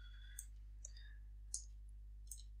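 Faint computer mouse clicks, four light isolated taps spread over a couple of seconds, over a steady low electrical hum.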